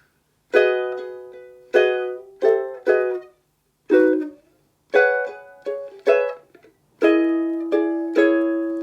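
Jazz chord fill strummed on ukulele, about eight bright plucked chords in a lilting triplet rhythm, each ringing then decaying, close and clear with no talking.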